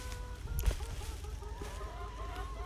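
Chickens clucking in a backyard flock that includes a broody hen, a string of soft overlapping clucks and murmurs at moderate distance with one sharper call, over a low outdoor background.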